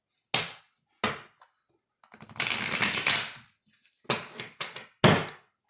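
A deck of tarot cards is riffled and shuffled in a series of sharp, close, crisp bursts. Short snaps come first, then a longer run of fluttering cards and several more quick shuffles, with no talking.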